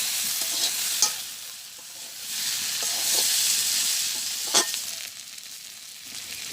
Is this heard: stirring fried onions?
yes